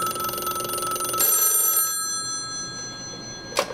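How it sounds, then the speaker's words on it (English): A telephone rings with a steady electronic tone that cuts off after about two seconds, followed by quiet and a short click near the end. "And that's when that phone started to ring."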